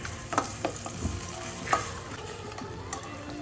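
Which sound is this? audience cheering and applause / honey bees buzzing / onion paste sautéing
onion paste sautéing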